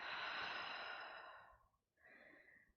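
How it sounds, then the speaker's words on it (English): One long, deep breath out during a movement exercise, a close, soft airy exhale that fades away, then a brief gap and a shorter breath. "Deep breath out."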